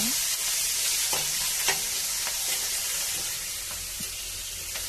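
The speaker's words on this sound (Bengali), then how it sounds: "এখন তেলে কিছুটা পেঁয়াজ মরিচ দিয়ে ভালোভাবে ভেজে নেব।" Onions and chillies fry in hot oil with a steady, bright hissing sizzle, punctuated by a few soft stirring scrapes, close and continuous with no one speaking.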